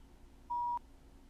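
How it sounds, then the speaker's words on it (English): A single short electronic tone rings out once, clean and steady, from a phone in the Roblox psychological horror game Where Is Ben, against a quiet background. "phone's ringing"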